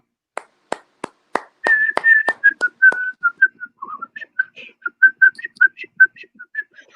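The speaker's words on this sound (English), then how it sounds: "I once was able to whistle the entire piccolo solo to the Stars and Stripes Forever" A woman whistles the piccolo solo from Stars and Stripes Forever, opening with a few sharp claps or taps before a quick, bright run of trilling whistled notes, close and fairly loud.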